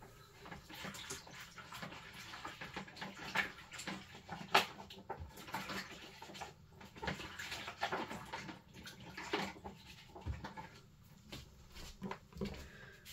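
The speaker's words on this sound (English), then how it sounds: "I'm just going to chuck this in water." A craft stamp is swished and rinsed in water, producing quiet irregular splashing and sloshing with small drips and clinks, continuing for several seconds without talk.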